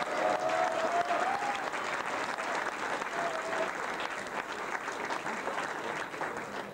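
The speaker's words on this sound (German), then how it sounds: "Das ist euer Applaus." Sustained audience applause at the Licht ins Dunkel All Saints gala in Frankenau, greeting a youth band, a dense, steady clapping from a hall crowd lasting throughout with a faint tonal whistle early on.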